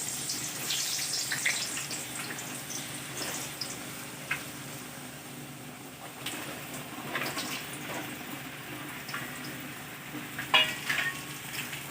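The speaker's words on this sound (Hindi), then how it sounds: "आलू को छोड़ने के बाद 5 मिनट तक इसको भूनेंगे।" Potatoes frying in hot oil in a kitchen pan, a continuous close sizzle with occasional stirring clinks and scrapes, steady throughout with no voices.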